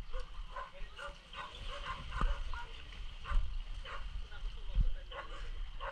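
A dog barks a few times at a distance over outdoor ambience, with people talking nearby.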